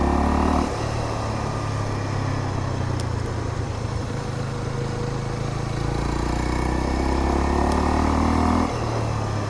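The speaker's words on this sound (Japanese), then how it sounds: "なんとなくサイレンサーの筒が長いような、ちょっと反響音多めの音がして" Honda CL250 motorcycle exhaust thrums with a low, steady engine note, rising in a couple of throttle swells while riding, fairly close and alone without speech.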